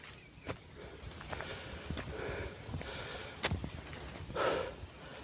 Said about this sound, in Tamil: இந்த காட்டுக்கே உண்டான சத்தம், இந்த வண்டுகள் இதெல்லாம் கத்தும்போது கொஞ்சம் பீதியாக தான் இருக்குது.